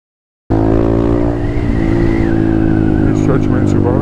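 A car roars in suddenly and accelerates hard through a red light, its engine loud and near and climbing steadily in pitch, with a brief squeal near the end and voices in the background.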